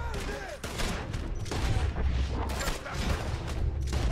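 Gunfire from the Red Dead Redemption 2 video game, a dense fusillade of overlapping shots and blasts filling the whole stretch, loud and continuous with game music and effects underneath.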